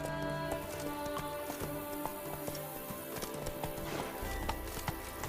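Horse hooves clip-clopping at a steady trot in The Witcher 3: Blood and Wine, repeated regular hoofbeats mixed under continuous game music and ambience.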